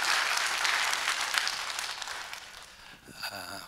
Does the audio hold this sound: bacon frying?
no